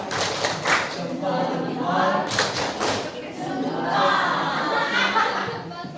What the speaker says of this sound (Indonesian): Ayo kasih Reza tepuk jempol.